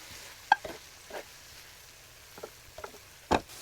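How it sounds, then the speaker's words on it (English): Onions and peppers fry gently in a skillet after cooking for about ten minutes, a faint low sizzle under a handful of sharp scraping and clattering strokes, close and without speech. "Onions and peppers have been cooking about 10 minutes."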